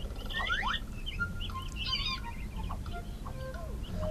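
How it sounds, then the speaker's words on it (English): A small bird trapped under a rock in an educational game chirps and twitters repeatedly in quick, bright, varied calls over a low steady background hum, fairly faint, with no voices. "we have a bird here which is trapped underneath the rock"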